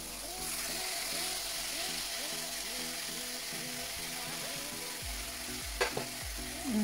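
Peri peri chicken frying in a pan over medium gas, a steady, dense sizzle heard close and continuous, with a brief clatter near the end.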